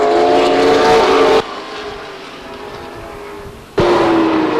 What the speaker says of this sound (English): what a fine example of a close hot rod racing right here at Stockton